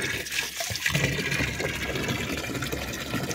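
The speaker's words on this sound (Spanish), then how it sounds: "ya se está llenando esto de agua" A container filling with water: a steady, dense rush and gurgle of pouring liquid runs loudly and continuously throughout, with no talk over it.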